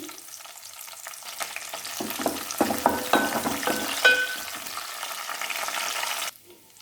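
Dried prawns and curry leaves fry in a pan for a Telugu ridge gourd curry, giving a loud, close sizzle with crackling spits and stirring scrapes that builds, then cuts off sharply near the end.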